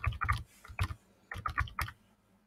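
Quick bursts of key taps on a computer keyboard, close and crisp, grouped in short runs with brief pauses between, nobody talking.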